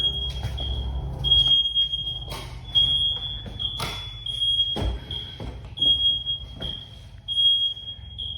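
Smoke alarm inside a 2003 Southern Homes double-wide mobile home shrills in a steady high piercing tone, with thumps and footsteps around it.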